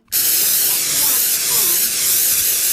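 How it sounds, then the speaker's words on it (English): Steady loud hiss of a shaken can being opened, beginning abruptly and holding without a break. "you shake the can vigorously, and in the direction of his face, you open the can"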